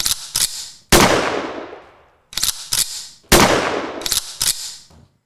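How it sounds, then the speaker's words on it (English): Two sharp gunshot sound effects, each a loud blast with a long decaying echo, preceded by quick mechanical clicks like a weapon being readied, with no talking. "This is where the gunshots would come in."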